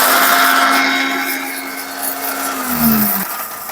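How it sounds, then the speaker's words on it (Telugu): Kitchen mixer grinder whirring as it grinds dried red chillies, a loud high motor whine that holds steady, then drops in pitch and cuts off near the end, heard alone without speech. "ఎండమిరపకాయలు మిక్సీకి వేసుకుందాం."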